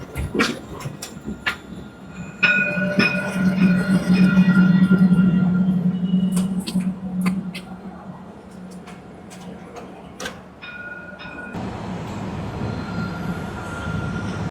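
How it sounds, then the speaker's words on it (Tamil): Dubai Metro trains rumble past with a steady low roar and high metallic squeals, two trains arriving at once, the noise swelling and then easing as they go by, with a ticking signal in between. "ஒரே நேரத்தில் ரெண்டு ட்ரெயின் வருது"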